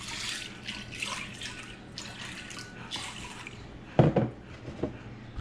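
Water splashing and trickling in a bowl as sweet corn seeds are put in to soak, a steady low wash with a brief louder splash near the end.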